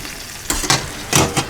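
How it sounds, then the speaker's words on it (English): A tomahawk pork chop sizzling on a Ninja Foodi grill, heard up close as a few short loud bursts of crackling sizzle separated by quieter hiss, with no voices. "Sizzling, baby, sizzling."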